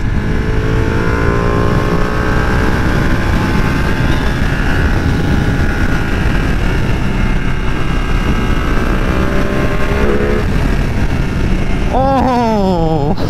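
A 2020 Ducati Panigale V2 engine roars under loud, constant wind rush while riding, its pitch climbing sharply in a quick rev near the end.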